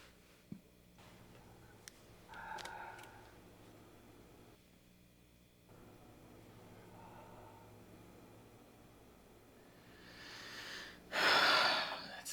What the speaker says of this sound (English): the way they just cut all the sound except for them breathing